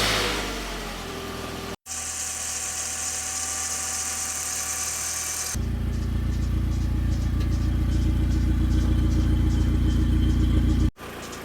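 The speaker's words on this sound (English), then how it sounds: "I believe that to be a faulty bearing in the timing tensioner." A VW Golf MK2 fitted with a 1.8t engine runs with a faulty timing tensioner bearing, giving a steady, loud mechanical whir and rattle that grows rougher and louder partway through, with no talking.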